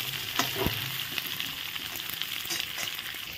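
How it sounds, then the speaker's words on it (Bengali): Vegetables, including lau doga (bottle gourd shoots), stir-frying in a pan with panch phoron, giving a steady close sizzle with a few scraping stirs of a spatula throughout. "সবজিগুলো দিয়ে ভালো করে নেড়ে চেড়ে নেবো।"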